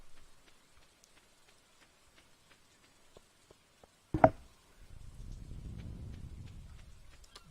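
Rain in the farming video game Stardew Valley, a soft patter that rises after a single sharp click and continues faintly in the background.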